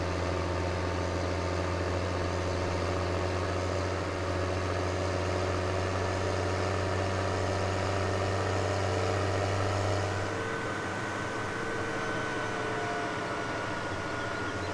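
In Farming Simulator 17, a John Deere tractor rated just over 200 horsepower sits idling with a constant low engine hum whose tone shifts and settles slightly lower partway through.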